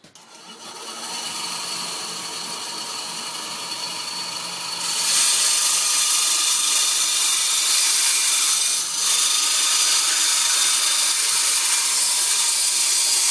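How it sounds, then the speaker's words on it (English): A bandsaw cuts pieces of pine for a country-style wooden shelf, its steady broadband whine running loud and continuous, growing louder midway as the blade bites into the wood, with a brief dip near the end. "now I'm going to cut those on the bandsaw"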